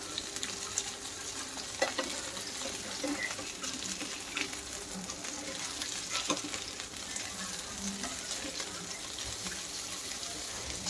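Soybean tikki shallow frying in a pan after being flipped, a steady soft sizzle of hot oil with occasional crackles and a few clinks and knocks from utensils, moderately quiet and with no talk.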